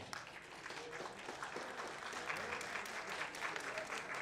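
An audience in a hall claps together in a sustained round of applause, a dense patter of many hands at moderate distance that swells slightly and carries on steadily, with voices faintly underneath.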